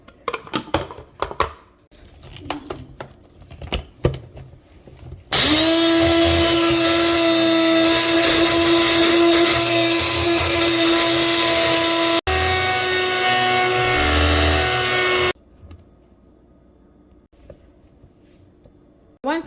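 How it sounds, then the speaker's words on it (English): A blender grating cauliflower runs loud and steady for about ten seconds, briefly cuts out and restarts, then stops, with quieter handling clatter before and after. "So I'm just going to use my blender."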